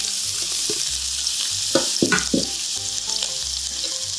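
Onion hits a hot wok with a little oil and sizzles steadily, with scattered stirring clatters and scrapes over the continuous frying hiss, close up and without talk.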